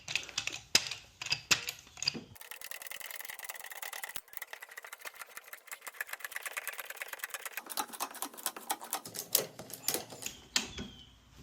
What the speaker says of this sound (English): now we're going to set the jack in place and pump it up